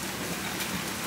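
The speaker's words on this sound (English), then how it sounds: "It's raining." Rain pours outside in a dense, even hiss, close and steady through the whole moment, with no voices.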